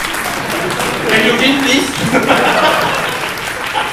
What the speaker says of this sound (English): a round of applause for Jadid, please